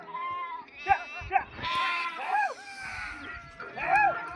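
Sheep bleating in several distinct calls a few seconds apart, close and clear, with soft background noise from the flock.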